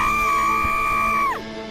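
A woman's muffled scream from an animated horror story holds one long sustained note, loud and alone, and then drops sharply as it dies away.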